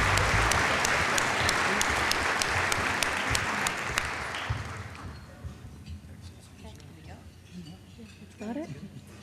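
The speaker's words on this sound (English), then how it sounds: "Let's all give them a big round of applause" A luncheon crowd at a chamber of commerce annual awards meeting gives a big round of applause, dense and loud at first, then fading away to scattered claps and murmuring voices.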